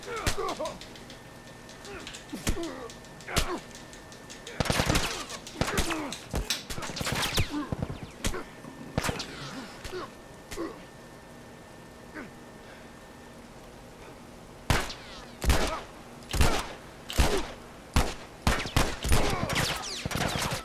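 Gunfire in The Last of Us Remastered: repeated sharp shots in scattered bursts, some single and some clustered, loud and close, with a quieter stretch in the middle before a rapid closing volley.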